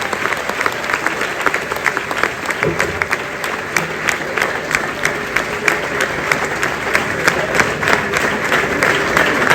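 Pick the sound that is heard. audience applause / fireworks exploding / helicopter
audience applause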